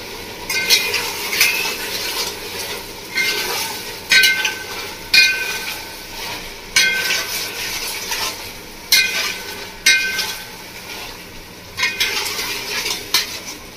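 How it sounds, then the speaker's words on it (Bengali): Mutton frying in a pan with ground ginger, garlic and green chili paste, a steady sizzle under repeated loud metal spoon scrapes and stirs every second or so, close by with no talking. "আদা, রসুন, কাঁচা লঙ্কা দিয়ে ভালো করে কষিয়ে নেবো।"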